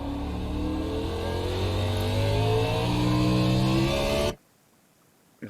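A NASCAR Cup car engine in iRacing at Daytona revs and accelerates, a loud steady roar climbing in pitch for about four seconds before cutting off abruptly into near silence.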